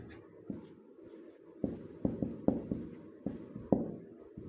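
Chalk or marker writes grammar notes on a board in a classroom lesson, with scattered scratchy strokes and sharp taps at irregular intervals, fairly faint and close.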